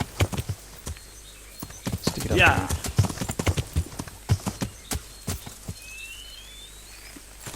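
Horse hooves clopping irregularly in Kingdom Come Deliverance, close and fairly loud, with a brief whinny-like cry midway and someone briefly speaking over the steps.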